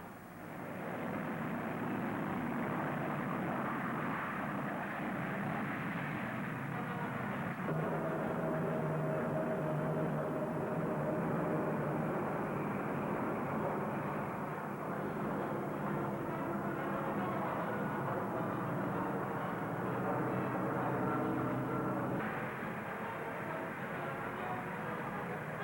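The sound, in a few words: Vickers Viscount airliner engines in flight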